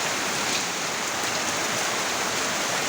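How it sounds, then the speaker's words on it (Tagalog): Heavy rain pours down steadily near a flooded dug pit by a wall, a dense, loud, unbroken hiss of drops lasting throughout with no talking. "Grabing ulan, oh."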